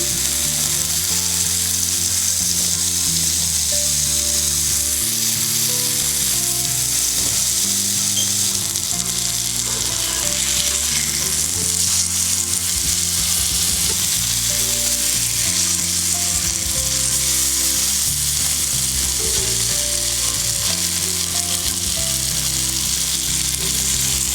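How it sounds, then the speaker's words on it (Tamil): Marinated shankara fish frying in oil in a pan, a loud continuous crackling sizzle with a steady bubbling undertone that holds throughout. "இப்போ நம்ம ஊற வச்சு எடுத்து வச்சுருக்க மீனை இதில் சேர்த்துடலாம். எண்ணெய் விட்டுக்கலாம்."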